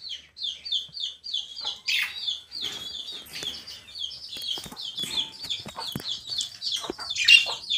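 Backyard fowl on a hot day give clustered, repeated high calls and soft clucks, a busy overlapping chatter at close range with a few louder squawks, no talk.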